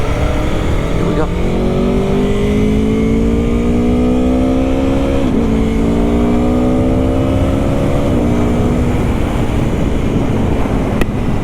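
A 2021 Aprilia Tuono motorcycle accelerating hard from a green light, its engine rising in pitch through several quick-shifted gears, close and loud under steady wind rush.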